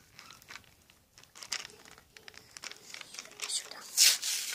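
Plastic and paper packaging of a small toy is torn and crinkled open in short bursts, close up, building to a louder rip at the end.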